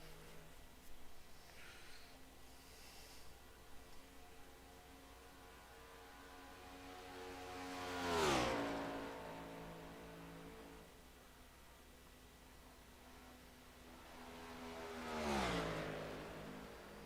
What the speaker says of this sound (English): Corey Wright rolling out onto the racetrack